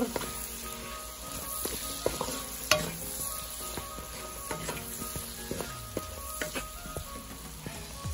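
Butter melts in a hot pan for pork menudo, giving a close, steady sizzle with scattered pops and crackles and the occasional clink of a utensil against the pan.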